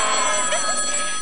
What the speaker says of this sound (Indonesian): Ayo kita angkat, ada telepon